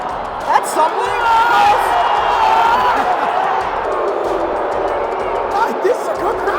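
Home playoff hockey crowd for the Utah Mammoth, a loud arena murmur with scattered cheers and shouts, with people talking over the noise throughout.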